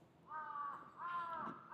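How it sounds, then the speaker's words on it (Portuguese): Crows caw twice, loud and close, each call a harsh drawn-out note, with a third starting at the end, outdoors in Japan. "Tá muito cheio de corvo aqui hoje."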